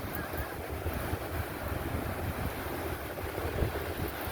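Ocean surf and wind at a beach, a continuous broad wash of waves with gusty rumbling buffeting the microphone, steady and fairly quiet throughout.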